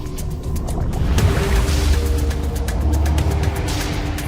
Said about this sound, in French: Je mets le moteur en marche.